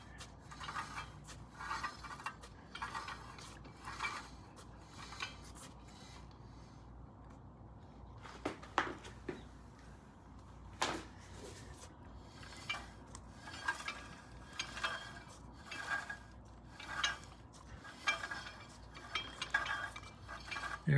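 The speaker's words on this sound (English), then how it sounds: "you can hear we still got rubbing up inside there with the master link way down here at the bottom" Inside the chain area of a 1975 Norton motorcycle, a faint rhythmic scraping and ticking repeats as the chain and master link turn over, with soft metallic clicks and no talk.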